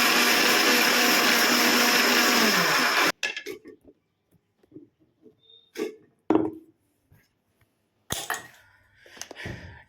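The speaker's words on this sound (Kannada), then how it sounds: "ಹುಣಸೆಹಣ್ಣು ಮತ್ತು ಟೊಮೆಟೊ ಎರಡನ್ನೂ ರಸಮಲ್ಲಿ ರುಬ್ಬಿ ನಾನು ಮಿಕ್ಸಿಗೆ ಹಾಕ್ಕೊಂಡು" A kitchen mixer grinder whirs loudly and steadily for about three seconds while grinding soaked tamarind and tomato for rasam, then cuts off abruptly, leaving scattered soft clinks and handling knocks.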